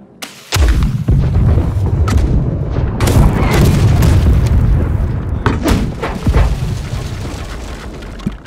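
Cannon fire from sailing ships in the naval game Blackwake: a string of loud, deep booms and rumbling blasts, some close and heavy, others further off, overlapping into a near-continuous barrage with sharp cracks on top.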